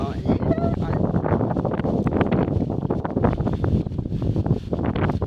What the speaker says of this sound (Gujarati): વાવાઝોડું જોરદાર આવ્યું તો હમણાં